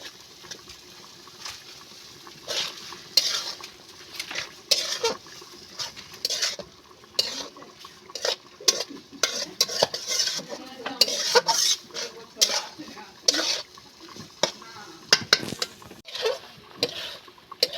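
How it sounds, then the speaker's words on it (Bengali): Boiled jute leaves are stir-fried with red lentils in a pan, with a metal spoon scraping and clattering in a busy, irregular rhythm alongside soft frying sounds, close and fairly loud. "ভালো করে আমি কষিয়ে নেব।"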